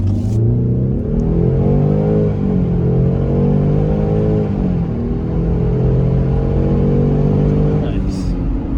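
A Land Rover Defender 90 engine accelerates hard from standstill toward 60 mph, its loud, close drone climbing in pitch, dipping briefly at a gear change, then rising again.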